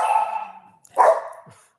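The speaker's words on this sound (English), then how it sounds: "Sorry about the dogs." Dogs barking indoors during a winemaker's virtual tasting: a sustained howl-like bark fades out, then a sharp, loud bark and a short yip follow, close to the microphone with no talking.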